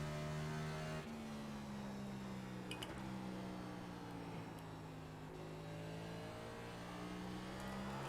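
A NASCAR Next Gen car engine in the iRacing sim holds a steady tonal drone, dipping briefly after a shift near the start, then sustaining a loud, even howl with slight pitch drift, no voices.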